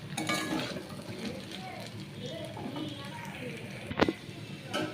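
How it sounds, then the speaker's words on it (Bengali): Cumin seeds and bay leaf sizzle softly in hot oil, a faint crackling hiss with a spoon stirring and a clink against the pan, under a voice. "জিরে তেজপাতা ফোড়ন দিয়ে"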